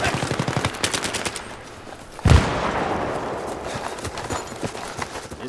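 Rapid automatic gunfire rattles through a Battlefield 3 Rush match on Xbox One, dense bursts and scattered shots with one louder close blast midway, all continuing under a steady din of distant battle.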